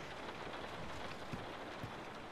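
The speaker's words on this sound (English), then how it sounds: "Listen to the rain on the windows." Rain patters on windows in the video game The Last of Us Remastered: a quiet, even, continuous hiss with no voices.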